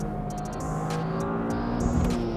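A Toyota GR Corolla engine revs hard during an acceleration pull, a steady rising drone with clear harmonic tones and faint whooshing bursts, heard from inside the car without talk.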